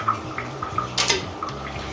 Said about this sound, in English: So I just give mine a quick rinse.